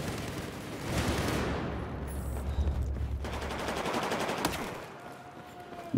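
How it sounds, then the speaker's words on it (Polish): Bursts of automatic gunfire coming from a rooftop in Battlefield 4, loud rattling volleys with sharp cracks over a rumbling battlefield, dying down toward the end, with no speech. "Cały czas tego dachu strzelają."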